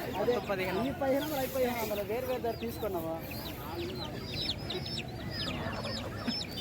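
Several native country roosters cluck and call in short, rising bursts, close by and fairly loud, over a busy village poultry market background.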